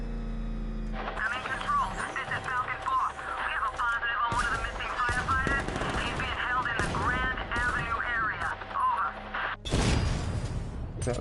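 Turret gunfire in the video game Batman Arkham Knight, repeated bursts and impacts over a steady mechanical hum, with a louder blast near the end and game music underneath.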